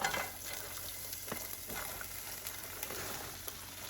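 Cabbage and other ingredients frying over lowered heat in a crowded skillet, a soft, even sizzle with occasional stirring clicks and scrapes, no talk.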